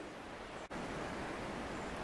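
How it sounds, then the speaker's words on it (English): A small mountain stream flows across a forest track in Nina Valley, Lake Sumner Forest Park, giving a steady, close, broad rush of water with one tiny dropout partway through. "This is one of about 10 little streams you cross on the way up here."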